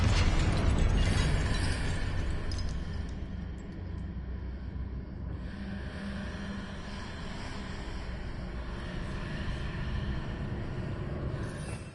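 The Confringo blasting spell in Hogwarts Legacy goes off as a loud fiery explosion, followed by a long rumbling, crackling decay that gradually thins out.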